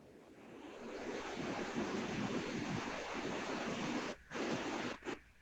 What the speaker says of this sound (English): And the sound of water calls.